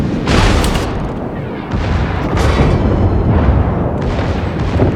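Heavy naval guns of the Yamato battleship booming in World of Warships, several loud deep blasts in quick succession with rumbling tails, firing salvos in a battle against enemy ships.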